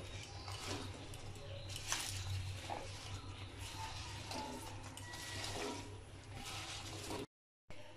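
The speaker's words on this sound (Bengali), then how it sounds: "জল সামান্য জলের মধ্যে আমি কচু শাকগুলো দিয়ে ভালো করে সেদ্ধ করে নেব।" Taro leaves going into a small amount of water in a cooking pot to boil, giving a steady watery splashing and squishing close by with faint clatter, cutting out briefly near the end.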